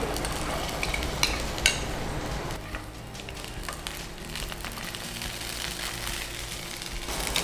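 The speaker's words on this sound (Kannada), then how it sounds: "ಎಣ್ಣೆ ಜೊತೆ ಚೆನ್ನಾಗಿ ನಾವು ಕಾಯಿಸ್ಬೇಕು" Raw banana pieces fry and get stirred in refined sunflower oil in a pan, a steady close sizzle with scraping stir strokes and occasional utensil clinks throughout.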